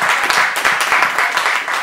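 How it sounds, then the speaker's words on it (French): A church congregation claps steadily and loudly, a dense patter of many hands continuing throughout with no voices standing out. "Applaudis un peu pour toi-même"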